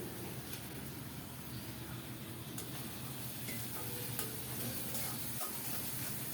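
Dried chepa shutki fish curry sizzles and fries with onion, garlic and green chili paste, a steady close crackle with occasional stirring scrapes throughout.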